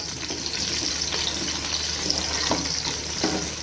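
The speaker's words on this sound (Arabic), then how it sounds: "دي كده اغسل المعلقه بقى" Tap water runs steadily into a kitchen sink as a spoon is rinsed after sautéing onion and garlic in oil for lentil soup, a continuous hissing splash with faint clinks, no talking.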